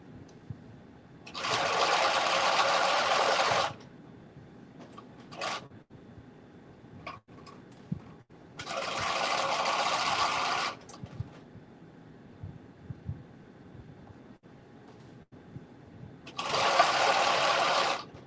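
Sewing machine stitching a caftan runs in three sustained bursts of a couple of seconds each, separated by quieter pauses with small clicks and handling noise.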